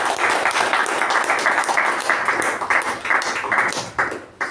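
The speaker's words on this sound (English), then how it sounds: "Can we give our Sergeant at Arms a tremendous round of applause?" A meeting audience claps for their Sergeant at Arms, a moderately loud, steady patter of hands with slight surges, continuing throughout.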